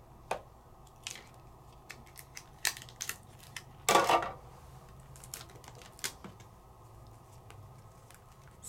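Die-cutting machine rolling a thick embossing folder and open frame die through its plates, a series of sharp clicks and creaks with one louder crunching burst near the middle, close and otherwise quiet.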